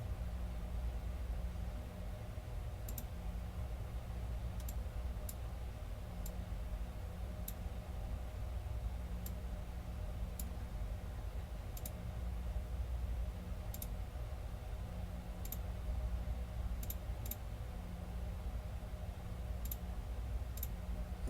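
Computer mouse clicks tick sparsely and faintly, about a dozen single clicks over a steady hum of background noise while a new Excel worksheet is opened.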